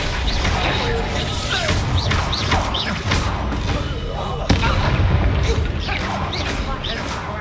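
A Reducto spell blast bursts out in a Hogwarts Legacy duel, one sharp thudding impact amid continuous clashing combat thumps and crashes, with voices shouting over the fight.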